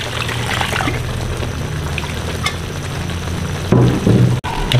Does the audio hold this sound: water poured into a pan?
yes